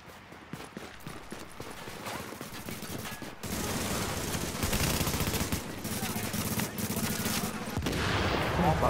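Video game gunfire from NPC enemies, rapid bursts and continuous volleys that grow denser and louder after the first few seconds, with faint voices underneath.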